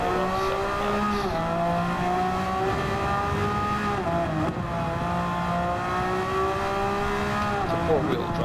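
A Subaru WRX Gr.B racing car in the Gran Turismo 7 video game revs loudly and continuously, its engine pitch rising and dropping through gear changes on a rain-soaked track, with a voice talking over it.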